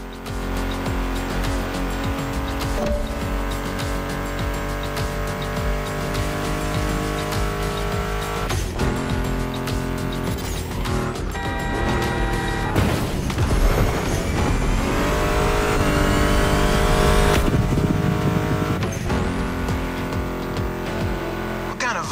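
Roaring muscle car engines, including a Mustang GT, in the video game The Crew Motorfest rev and shift through gears, loud and continuous, with tire squeals and skids over sustained mechanical drones.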